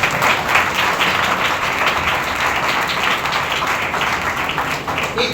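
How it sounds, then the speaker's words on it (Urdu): Congregation at a Thursday church healing meeting breaks into sustained, dense applause, steady and fairly loud for several seconds with no voices standing out. "اگر سمجھ آئی ہے تو کچھ تالیاں ضرور بجائیں گے۔"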